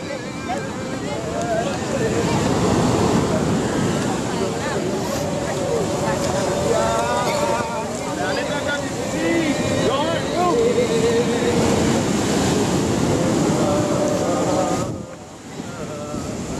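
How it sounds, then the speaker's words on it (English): Rough sea waves surge and crash along the shore where boats wait during a Balinese Nganyut cremation ceremony, a loud steady roar with wind buffeting the microphone that drops briefly near the end, with voices faintly mixed in. "Dangerous these waves."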